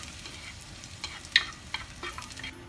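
Edamame (green soybeans) stir-fry in a pan, with a low steady sizzle punctuated by a few sharp clicks and rattles as the pods are tossed, close and without speech.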